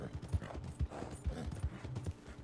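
Horse hooves clop in a quick, steady rhythm, close and moderately loud, over a dense background of video game ambience.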